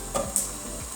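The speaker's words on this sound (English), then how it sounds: "So first you're going to put all your scallop into the pan." Scallops drop into a hot pan with a quiet, close sizzle, a couple of light scrapes and clinks over the short burst.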